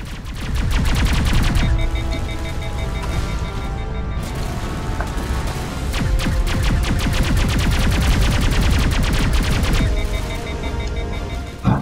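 Sustained gunfire in Mass Effect Legendary Edition, with loud rapid volleys and repeated shots that continue almost nonstop, briefly thin out, then resume at full intensity, with echoing booms and mechanical clatter.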